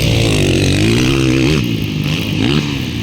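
A racing motorcycle engine roars close and loud in an expert-class race, its pitch climbing, dipping and climbing again as it revs through gears over a steady rumble.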